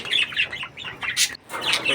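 Lotan pigeons at a pigeon sale, giving repeated short calls and chirps in close, busy bursts with brief pauses between them.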